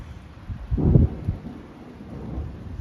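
Thunderstorm over Metz, with a low rumble of thunder swelling near the one-second mark and fading into a softer background wash of rain and wind.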